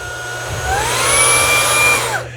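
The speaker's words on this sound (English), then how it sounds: "3 reasons why I love the Fanttik Slim V8 Apex cordless vacuum cleaner" A Fanttik Slim V8 Apex cordless car vacuum runs steadily with a high motor whine and airy rush, holding a constant pitch before spinning down at the end, close and alone.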